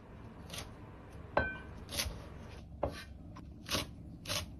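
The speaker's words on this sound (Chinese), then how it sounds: "再把韭菜改刀切碎" A kitchen knife chops Chinese chives on a board in about six crisp, spaced cuts, close and fairly quiet, with no talking.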